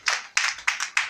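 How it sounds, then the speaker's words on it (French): Four separate bursts of hand clapping, evenly spaced and fairly close, each a sharp slap followed by a brief fading patter, from an audience at a stand-up comedy show. "applaudissez pour le groupe"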